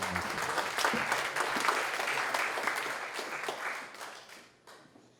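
At a firefighters' recognition evening, a crowd gives firm, sustained applause that stays full for a few seconds before fading out toward the end.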